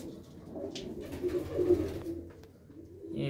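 Pigeons at a coop give low, soft, rolling coos, several overlapping calls close by, with faint rustling and light background noise.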